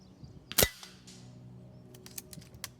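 A single sharp crack from a .22 sniper rifle shot on a range, loud and near, followed by faint ticks and light clicks with no talking.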